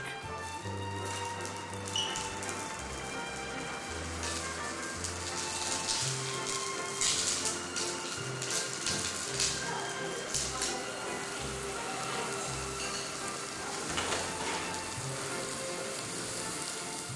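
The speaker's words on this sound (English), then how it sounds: "he still gets a kick serving the cafe's signature dish, the sizzling steak." Steady loud sizzling of steak on a hot plate, a continuous crackling hiss with occasional sharper spits, with music playing in the background, in a Malaysian cafe.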